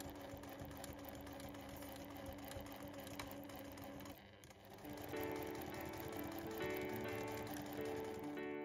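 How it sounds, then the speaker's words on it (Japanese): Sewing machine backstitching the seam of a flap tote bag, a steady fast mechanical stitching rattle that pauses briefly midway, then resumes slightly louder and busier. "ここの部分も返し縫いします"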